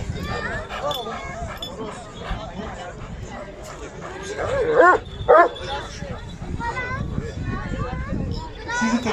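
An Anatolian Shepherd dog barks at a dog competition in Istanbul, giving several loud, sharp barks in the middle of the clip over a busy crowd with steady chatter and talk throughout.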